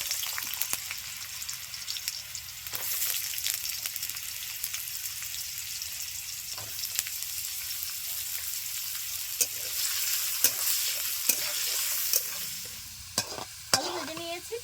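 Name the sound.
potatoes frying in mustard oil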